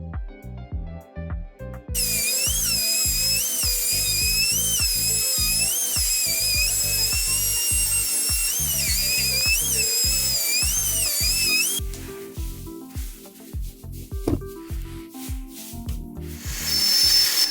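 A router cuts hard rock maple, a loud, high-pitched whining screech that holds steadily for about ten seconds, set between quieter stretches of rhythmic scraping and handling noise.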